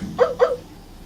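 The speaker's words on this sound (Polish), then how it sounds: "Szczeniaczek szczeka." A puppy barks from an electronic educational activity cube: two quick, bright yaps in close succession, crisp and near, followed by quiet.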